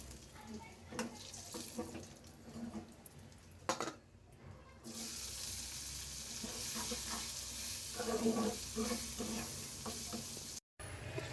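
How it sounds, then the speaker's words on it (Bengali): Egg curry spice masala sautés in a pan, crackling and sizzling steadily up close while a utensil stirs and scrapes it, with a brief pause partway through. "এখানে আমি ডিমের মশলাটা ভালো করে কষিয়ে নিয়েছি"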